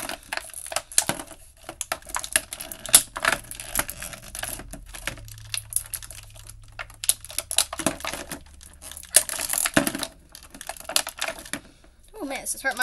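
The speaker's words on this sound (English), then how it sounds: "These are a little hard to get out because they are like really in the plastic" Hard plastic toys are popped out of stiff plastic packaging, giving close crinkling, crackling snaps and rustles in irregular bursts, with a voice talking intermittently over them.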